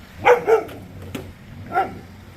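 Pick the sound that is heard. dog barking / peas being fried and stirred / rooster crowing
dog barking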